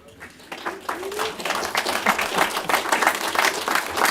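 A crowd at a community recognition event for a 10U youth football team applauds, a short burst of clapping that builds and holds at moderate distance, with faint voices mixed in.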